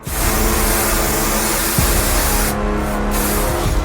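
Spider repellent spray being sprayed in a Poppy Playtime video game, a loud continuous hissing aerosol burst filling the whole stretch, close, with brief dips near the end and a low hum beneath.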